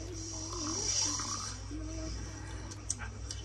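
A voice imitates snoring in a read-aloud fairy tale, drawing out slow, rumbling breaths over a steady low hum.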